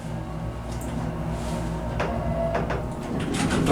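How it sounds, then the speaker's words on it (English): An OTIStec hydraulic elevator door slides open in a 1960s resort building, a close mechanical rumble and rolling slide that swells toward the end over a steady motor hum. "Door opens original."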